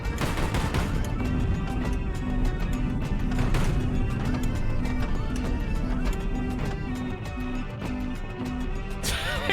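Missile strikes in the naval combat game HighFleet, dense rapid explosive cracks and gunfire-like bursts layered over a constant loud roar of battle, with a brief flurry near the end.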